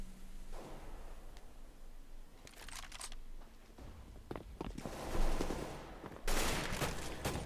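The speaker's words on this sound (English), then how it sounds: "There's Carrigan that's actually going to land the shot there onto Kutcher" Gunfire in a Counter-Strike: Global Offensive match on Dust 2, with several bursts of rapid shots and sharp cracks spread across the stretch amid game ambience, loudest near the end.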